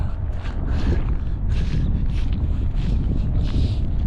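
Strong cold wind buffets the microphone with a constant low rumble and gusty surges, loud and close, with no talking.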